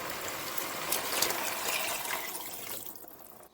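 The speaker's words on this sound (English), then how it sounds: "what we're going to do now is add in the broth." Broth pours steadily into a pot of artichoke soup, a continuous close liquid splash and trickle that fades out at the end.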